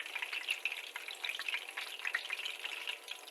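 Hot oil fries schnitzel in a continuous, crackling sizzle as oil is basted over it, close and steady without pause, with no voices.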